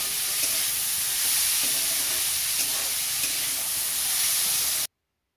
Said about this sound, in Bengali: তারপরে পেঁয়াজ কলিটাকে আমি নাড়তে থাকি।